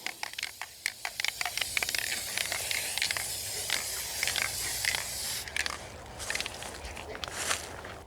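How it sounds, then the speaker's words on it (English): Kamar spray varnish hissing from an aerosol can held upside down indoors, in a steady close spray with short clicky bursts and sputters, ending in a stronger hiss. "I might as well just spray the rest of it upside down"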